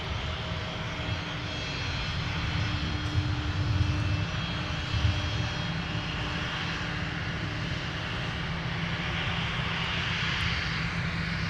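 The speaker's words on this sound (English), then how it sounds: "We've got a 757-300 headed to the threshold of 17. They're going to take runway 17 for departure." A Boeing 757-300 jet taxis toward the runway threshold for departure at Minneapolis–Saint Paul airport, its engines producing a steady, continuous broadband roar with a low rumble that holds constant throughout, with no voices.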